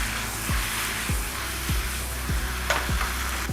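Chicken roast coated in ground masala sizzles in a pan while being stirred, with six regular scraping strokes about every 0.6 seconds over a steady close frying hiss; no talking.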